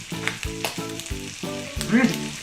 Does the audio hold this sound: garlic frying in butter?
yes